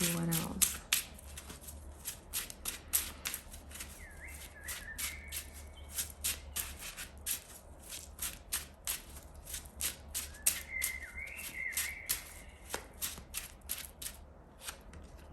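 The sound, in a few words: shuffling Gold Foil Tarot cards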